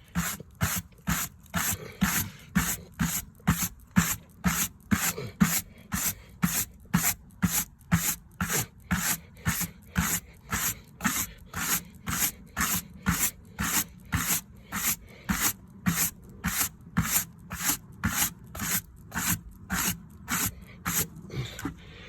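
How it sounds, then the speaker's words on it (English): A wire brush scraping charred shou sugi ban wood cladding for a boat, in steady, evenly spaced rasping strokes, close and loud, repeating about twenty times with no talk. "you scrape off all the charred wood, and then you're left with that effect"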